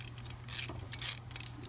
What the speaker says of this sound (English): we just need to go ahead and back off that second 10 millimeter